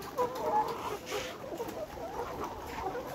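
Nourish layer hens in a poultry shed cluck and murmur in a scattered, fairly faint flock chatter, with short overlapping calls and a brief louder squawk midway.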